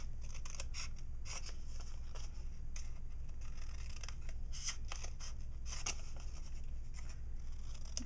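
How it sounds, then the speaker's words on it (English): Scissors cut paper along score marks in a quiet room, making a close series of crisp snips with irregular spacing, and nobody speaks. "I'm going to cut along the score marks I made just until I reach the edge of the oval"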